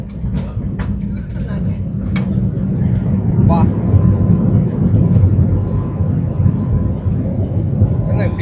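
An airliner coming in to land on a domestic flight in India, heard from inside the cabin as a steady loud rumbling roar with a few clicks and knocks, while someone talks over it.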